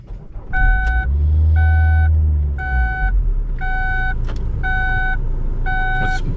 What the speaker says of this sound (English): I'm going to turn the car on.